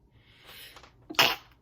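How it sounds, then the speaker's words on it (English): A single close sneeze: a soft breathy intake building up, then one sharp, loud, hissing burst near the end. "I'm needing to sneeze."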